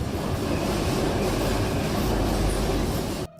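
Metro train rushing past in a Kyiv subway tunnel, a loud, continuous rumbling roar with rattling wheel noise close by, ending abruptly.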